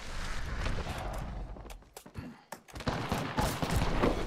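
Gunfire in the battle-royale video game Apex Legends, bursts of rapid shots and sharp cracks spread across the clip with short gaps between volleys.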